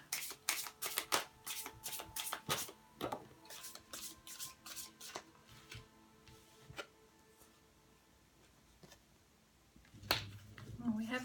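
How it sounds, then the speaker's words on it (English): A deck of tarot cards being shuffled and handled close up, with crisp riffling and tapping clicks in quick clusters that thin out into occasional soft taps. "I feel like I want to pull some more cards from this deck"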